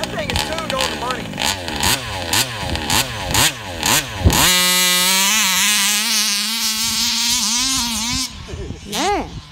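A tuned two-stroke TMR 30.5 long rod engine revving hard to around 16,000 RPM, starting with a series of sharp rising and falling blips and then holding a loud, high, steady scream before it drops away.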